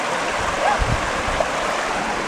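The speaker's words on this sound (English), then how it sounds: "Just cooling off in the mountain water." Mountain stream water rushing and splashing steadily, a broad close wash of flowing water with a few low thumps of movement in it, no voices.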